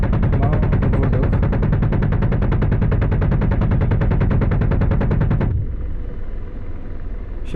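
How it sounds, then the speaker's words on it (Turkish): Cannon fire from an AH-64D Apache in DCS World, a fast, even stream of heavy rounds hammering for about five seconds before cutting off abruptly into lower rotor and engine noise. "Bu şekilde topumu kullanabiliyorum."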